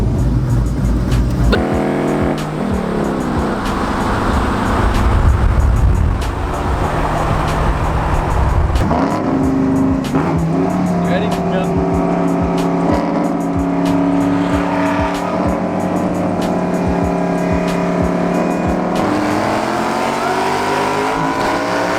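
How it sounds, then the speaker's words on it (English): A Mustang on nitrous roars hard and close, its engine revving loudly, dipping briefly, then building into a sustained, harmonic-rich pull that holds steady before shifting near the end. "we're gonna go ahead and do a Nitrous hit right now"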